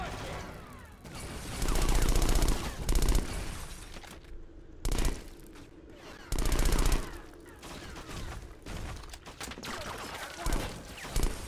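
Gunfire in the shooter video game Black: loud bursts of automatic fire and heavy shots come in several intense volleys, with short quieter gaps between them.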